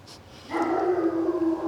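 Hoku the dog lets out a loud, sustained howl with barking edges, starting abruptly after a brief quiet moment and holding steady close by for over a second.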